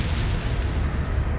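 A dense, booming gunshot-like blast in the Resident Evil 4 video game fills the whole brief moment, loud and sustained with heavy low rumble and no talking.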